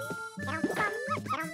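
Poochy Pup, the dog in the Yoshi's Crafted World video game, gives a few short, bright yips and barks in quick succession, close and clear over game music.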